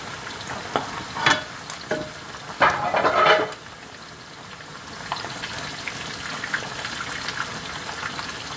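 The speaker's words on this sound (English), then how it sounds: "I'm gonna show you how to fry cheese" Cheese frying in a pan gives a steady, close sizzle, with louder bursts of crackle and hiss as it is stirred or moved, then settles into a softer, even frying sound without talk.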